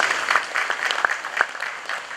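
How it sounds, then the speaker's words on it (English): An audience at an opening ceremony gives a round of applause, a steady wash of many hands clapping at moderate loudness with a few sharper individual claps standing out, without speech over it. "Please make him welcome with a round of applause."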